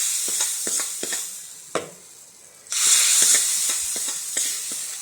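Kashmiri chilli powder seasoning for a ripe mango curry sizzles in a hot pan. Soft hissing runs throughout, with a series of light scrapes and taps as it is stirred, and a brief quieter dip midway before the frying swells again.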